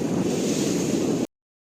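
Steady, loud rush of wind and water on a ferry crossing to Toronto, a dense roar that cuts off abruptly after about a second.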